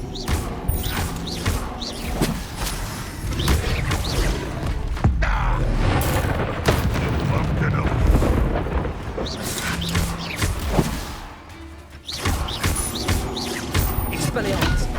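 Spell explosions and combat blasts from the Bombarda spell in the video game Hogwarts Legacy, loud repeated booms and crashes throughout amid dense battle effects, with shouted voices mixed in.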